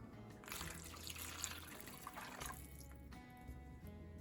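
A cup of water is poured into a teriyaki sauce mix with pepper, heard alone as a faint, short stream of liquid splashing into a bowl.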